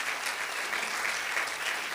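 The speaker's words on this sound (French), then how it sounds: "On acclame pour le Seigneur." A church congregation applauds during a worship service, a dense, steady wash of many hands clapping at once, continuous and fairly even in loudness throughout.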